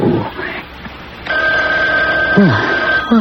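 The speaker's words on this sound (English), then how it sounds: "Oh, it's the phone ringing, Mother." A telephone rings in a 1981 radio mystery drama, a sustained electronic ring that starts abruptly partway through and holds steady, with a voice speaking briefly alongside it.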